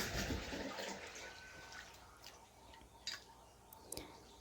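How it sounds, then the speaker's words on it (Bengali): Flattened rice (poha) being squeezed and washed by hand in a bowl of water, giving soft wet squelching and sloshing up close, with a few brief clicks and splashes; no one speaks. "চটকে চটকে ধুয়ে নিচ্ছি।"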